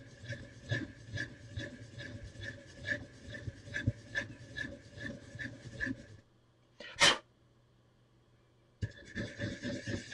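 Lego pieces being sanded with worn sandpaper for a Lego Lamborghini Countach build, a rhythmic close scraping rub for about six seconds, then a pause with one brief sharp sound before the rubbing resumes.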